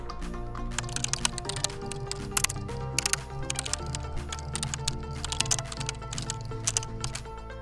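Quick clicking keystrokes on a computer keyboard come in short bursts over steady background music, close and moderately loud.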